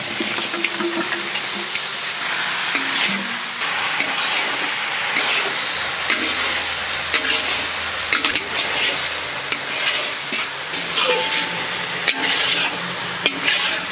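Sugar and boiled chicken hit the pan for a village-style sweet-and-sour chicken curry, setting off a loud, steady frying sizzle with repeated stirring scrapes and clicks throughout, close up and without speech.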